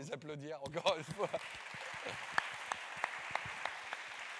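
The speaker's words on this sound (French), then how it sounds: "on peut les applaudir encore une fois" An audience at an awards ceremony for smart electrical grids applauds steadily and moderately loud, starting just after a brief spoken voice at the opening.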